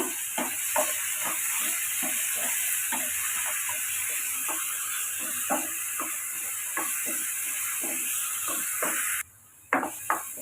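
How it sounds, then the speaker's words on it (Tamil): Cut potatoes with salt frying in oil in a pan, a steady sizzle under a rapid series of spatula scrapes and taps, nearby and continuous, with a brief dropout near the end. "உருளைக்கிழங்குக்கு தேவையான அளவுக்கு உப்பு சேர்த்து வதக்கி வச்சு எடுத்துக்கோங்க."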